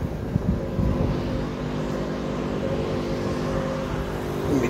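Car engine starting up and running with a steady low rumble close by, a continuous idle drone that fills the whole clip without talk.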